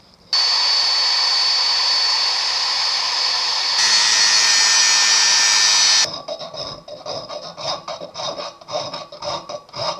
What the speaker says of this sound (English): I'm going to grind 6 points onto the end of this, which will fit a 14 6-point socket